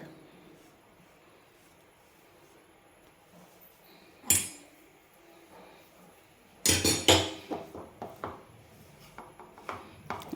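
A besan flour and ghee mixture for besan barfi is stirred in a pan, with a single sharp metallic clink followed after a pause by a cluster of scraping, clattering utensil strikes against the pan.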